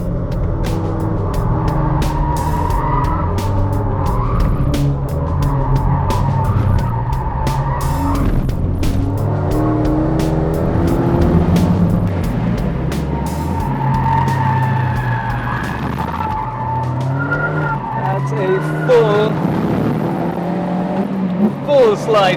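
A modified car slides around the BIC race track, its engine roaring loudly and continuously with revving and tyre noise, overlaid by speech throughout.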